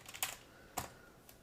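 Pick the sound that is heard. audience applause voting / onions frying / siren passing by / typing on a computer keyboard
typing on a computer keyboard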